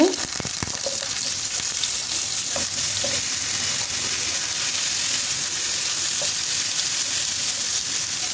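Pieces of taro (kochu) fry in hot oil in a pan, giving a loud, continuous, close-up sizzle and crackle that barely changes from start to finish.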